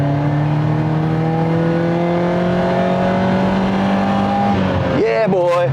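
A VW Golf mk2 2.0 16V is driven hard on a crisp morning. Its engine note climbs steadily and loudly through a gear, then breaks into a sharp shift and a fresh surge at the end.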